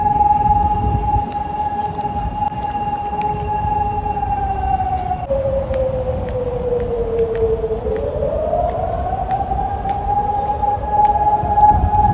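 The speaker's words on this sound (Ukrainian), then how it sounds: "А, бачите, моє сирена." A loud, steady wailing air-raid siren in Ukraine holds one tone, then sweeps down and back up, sounding continuously over a low rumble of background noise.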